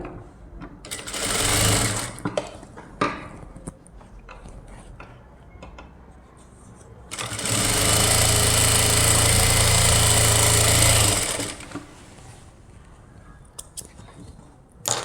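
A sewing machine runs in two loud bursts while stitching a lined blouse, a short run near the start and a longer steady run of several seconds in the middle. Quieter handling noises fill the pauses between them.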